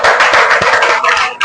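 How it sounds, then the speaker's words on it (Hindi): Applause from a congregation at a Sunday church service, a brief dense burst of many hands clapping together, loud and close, fading at the end. "जोरदार तालियां।"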